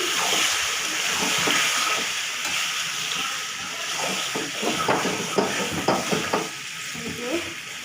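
Food stirred in a cooking pot with a spoon, a steady frying sizzle and hiss running throughout with repeated scraping strokes growing more distinct toward the end, close and moderately loud.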